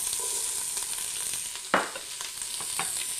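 Diced onion, celery and carrots sautéing in grapeseed oil for bean soup, a steady close sizzle broken by one sharp scrape of stirring and a few lighter clinks.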